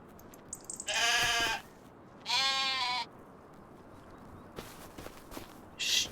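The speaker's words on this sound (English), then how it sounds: "Stupid bloody sheep." Sheep and lambs in a farm shed bleating, two long close bleats followed by a shorter one, with light shuffling footsteps and rustling between the calls and no speech.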